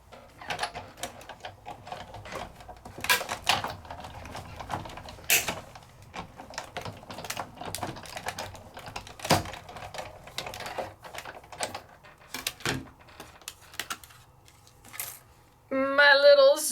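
An Elizabeth Craft die-cutting machine presses a die through paper to cut out a top piece, giving a series of irregular mechanical clicks and clacks, close and moderately loud, with a brief higher-pitched burst near the end.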